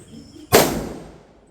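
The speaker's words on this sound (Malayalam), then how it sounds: "ഓലപ്പടക്കത്തിന് നല്ല സൗണ്ട് ഉണ്ട്" A palm-leaf firecracker goes off with a single sharp, loud bang, followed by a decaying rumble that fades over about a second.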